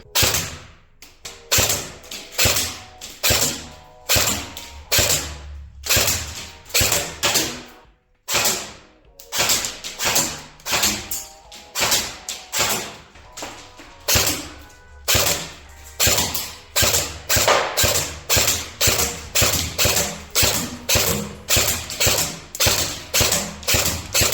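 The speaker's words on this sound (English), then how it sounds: "first of all we're going to go for semi-automatic" A Double Bell M16A4 AEG airsoft rifle with M203 grenade launcher fires semi-automatic, dozens of sharp single shots in quick irregular succession, close and loud with mechanical clacks, no talking.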